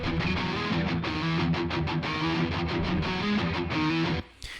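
Squier Telecaster through another STL Tone Hub amp preset for a pop punk part, with distorted, slightly muddy rhythm chords strummed steadily and loudly on their own before stopping abruptly near the end.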